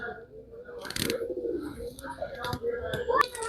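Pigeons coo softly in low, rounded calls, mixed with scattered chirps and faint background voices.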